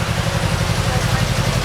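A small boat motor runs in murky flood water, making a loud, steady low chugging with an even rhythm throughout.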